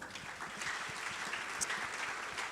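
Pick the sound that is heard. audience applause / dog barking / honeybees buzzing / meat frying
audience applause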